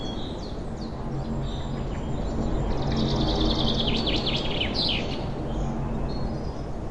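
A sparrow chirps in a burst of bright, quick tweets that rise over a steady outdoor hiss midway through, set as a sound effect in a children's story.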